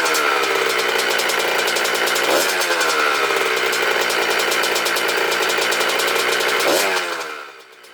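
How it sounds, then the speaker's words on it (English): A Honda CR80R motocross bike engine runs close and loud, a rapid rattling buzz with a couple of brief throttle blips, then fading at the end. "this bike sounds good."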